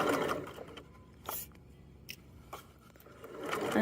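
A sewing machine stitches across a pajama waistband, a soft, low mechanical whir running quietly throughout, with a few brief clicks and scrapes of fabric handling.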